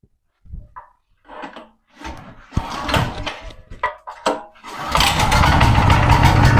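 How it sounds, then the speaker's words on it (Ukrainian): GRAD petrol generator pulled with its manual recoil starter: a few scraping rope pulls and clunks, then the engine catches and settles into a loud, steady running roar close by. "включаємо сам генератор та заводимо генератор пусковим ручним стартером"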